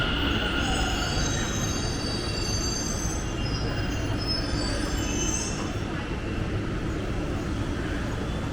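A Delhi metro train rolls past with a steady rumble while its wheels squeal in high, drawn-out whines, loud and close on a station or platform.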